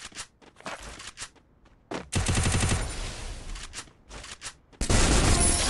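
Gunfire in the Free Fire video game cracks out in sharp single shots, then rapid automatic bursts, loud and close with brief pauses between volleys.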